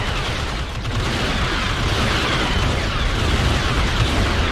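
Continuous loud rumbling barrage of artillery explosions in a war strategy video game, dense overlapping booms forming a steady roar with no clear gaps.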